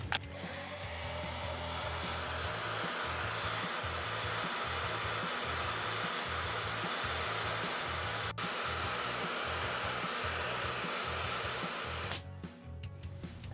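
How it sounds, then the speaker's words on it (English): A hair dryer blows hot air onto a balloon with a loud, steady, broadband whoosh and a low pulsing motor hum, running continuously for about twelve seconds before it cuts off abruptly. "This can be observed by heating a balloon with a hairdryer."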